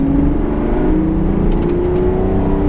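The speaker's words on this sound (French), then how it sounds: "Et là je remets un filet de gaz. Ça commence à rentrer." A race car accelerates on the Bugatti circuit at Le Mans during a driving course, its engine droning loud and close as the pitch climbs steadily, with no talk.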